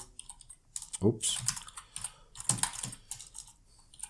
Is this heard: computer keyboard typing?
yes